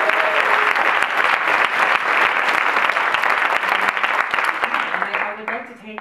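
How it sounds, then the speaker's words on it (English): Audience applause fills a room at a series launch event at the Paley Center, a dense, loud wash of clapping that holds steady for several seconds and then begins to thin out near the end. "Can we have a round of applause for you?"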